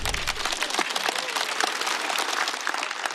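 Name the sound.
audience applause at a stand-up comedy show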